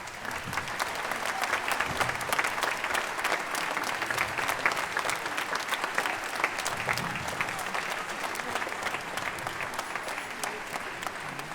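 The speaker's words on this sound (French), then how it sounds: "Donc merci pour vos applaudissements." A concert audience at a show by a wind band and choir applauds, sustained, even clapping from a full hall that holds steady across the whole stretch at moderate level, with no voices standing out.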